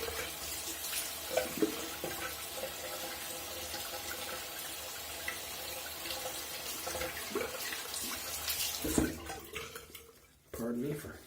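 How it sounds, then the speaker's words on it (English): Tap water running into a bathroom sink during a shave, with continuous close splashing as water is scooped onto the face, a few louder splashes, and the flow cutting off briefly near the end. "let me throw a little water on this face."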